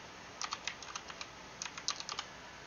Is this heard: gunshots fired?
no